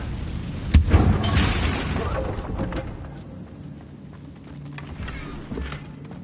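Confringo fire spell explosion in the Hogwarts Legacy video game: a sharp booming blast near the start, followed by a rumbling, crackling decay and a fainter burst later on.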